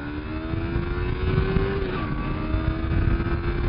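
A 2015 Yamaha R3 sport bike with a fairing accelerates on the highway into a heavy wind, its engine note droning steadily and rising slightly in pitch under strong wind rush.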